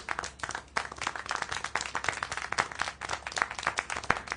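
Rapid, dense applause in the video game Syberia: The World Before, many hands clapping continuously in a lively, uneven patter.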